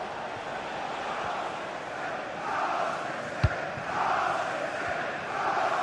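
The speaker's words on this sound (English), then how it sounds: "the crowd is certainly trying to motivate the team to push them forward to get the equaliser" A football stadium crowd roars in a steady, distant swell of cheering and chanting, rising and falling as fans urge their team on in the final stretch, with a single sharp thud standing out.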